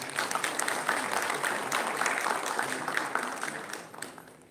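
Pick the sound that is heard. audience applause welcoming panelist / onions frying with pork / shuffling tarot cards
audience applause welcoming panelist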